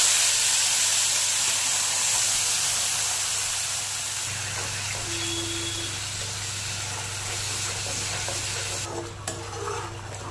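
Masala paste for a Bengali-style fish curry sizzles and hisses steadily in hot oil in a wok, with stirring scrapes throughout and no talk.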